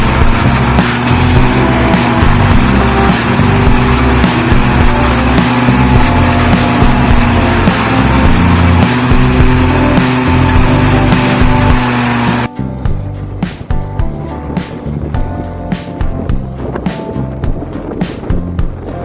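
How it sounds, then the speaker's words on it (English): A farm tractor drifts through thick mud, its engine roaring loud and unbroken at close range; partway through the sound shifts abruptly to a choppier, rougher texture. "a tractor executes a breathtaking drift in the mud"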